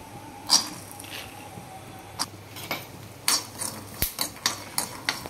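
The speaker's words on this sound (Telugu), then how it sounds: "2 స్పూన్ల పల్లీలు వేయించుకుంటున్నాను" Two spoons of peanuts are dry-roasted in a pan. Soft, irregular taps and rattles sound as the nuts are stirred and shifted against the metal.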